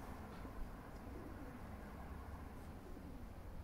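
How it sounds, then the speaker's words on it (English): Pigeons in an abandoned concrete plant, soft cooing over a faint, steady background hum with no voices. "got pigeons flying about"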